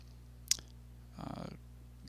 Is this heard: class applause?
no